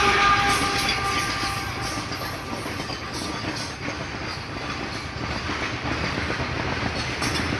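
A long freight train rolls past on the tracks near a garden, a loud, steady rumble with rhythmic clickety-clack of wheels over rail joints and faint squeals, continuing throughout without voices.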